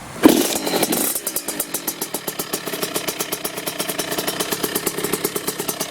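A 2009 Kawasaki KX65 youth motocross bike is kick-started with the throttle cracked slightly open. A thump is followed by the small two-stroke engine catching and running in a rapid, even, popping idle, close and loud, with no talking.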